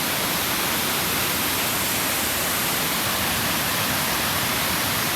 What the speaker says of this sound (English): Look at all the frozen rocks and all the water hitting it from the waterfall